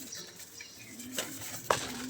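A locked metal pigeon cage is opened with two sharp, close metallic clicks of the latch, one after the other. Faint background noise fills the gaps.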